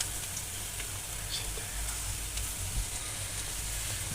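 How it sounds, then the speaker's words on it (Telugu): Onions frying in a pan for a home-cooked aloo paratha meal, a steady close crackling sizzle that runs unbroken throughout with faint stirring scrapes and no voices. "ఉల్లిగడ్డ అయితే ఫ్రై అవుతుంది"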